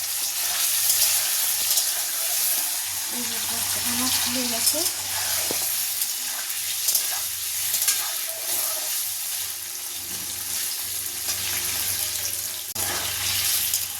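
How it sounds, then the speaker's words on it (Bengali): Paneer pieces fry lightly in a pan for a paneer korma, giving a steady, close sizzle with soft stirring scrapes throughout and no talking. "এরপরে এর মধ্যে পনিরগুলো হালকা করে ভেজে নেব"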